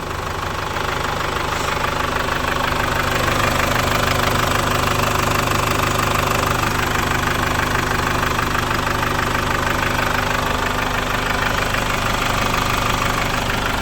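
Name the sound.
Chevrolet Captiva diesel engine idling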